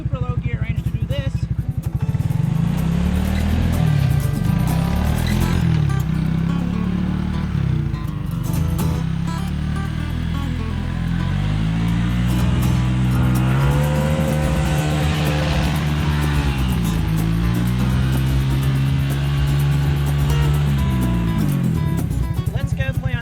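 A Suzuki King Quad ATV engine works in diff lock and super low gear through snow, a steady close drone rising and falling in pitch as the throttle changes over a long stretch.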